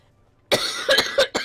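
A woman breaks into a short coughing fit after a moment of quiet: four harsh, close coughs in quick, uneven succession.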